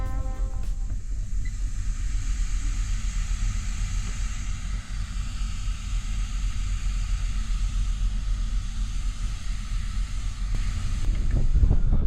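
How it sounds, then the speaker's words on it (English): Strong wind roars steadily across the open deck of a cruise ferry, a loud continuous rumbling rush with hissing gusts and no voices. "it is windy out here and very blue"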